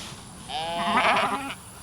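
One sheep on a muddy dairy farm gives a single wavering bleat of about a second, close and fairly loud, with no talking.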